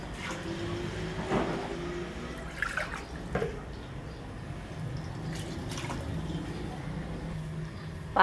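Water pours and splashes into a pot of rinsed rice and moong dal for khichdi, a soft steady trickle with a few brief sloshes and clinks, fairly quiet and close.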